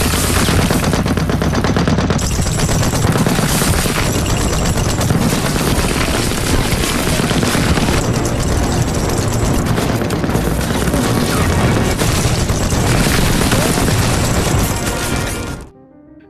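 Machine-gun fire in a WWII war film about Panfilov's 28 Men, with soldiers advancing on a trench. A loud, dense, unbroken din of rapid gunfire and battle noise runs for about fifteen seconds, then cuts off abruptly.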